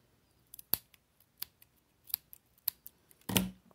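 Scissors snip through pompom trim while making a mustache-shaped pompom craft, giving several short, crisp cuts at irregular intervals and ending in a longer, louder closing snip, close up with no talking.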